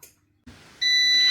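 An air fryer sounds its end-of-cooking beep while chicken thighs cook at 200 Celsius, a steady bright electronic tone that begins after a short shuffle and holds on loud and close.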